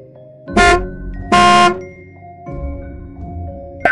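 Two loud, blaring bus horn honks sound close together, each about half a second long, over light background music in a children's alphabet song.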